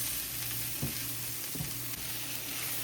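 Paneer tikka filling with salt stirred in a hot pan: a dense, even sizzle throughout with a few soft spoon strokes through the mixture, close and steady.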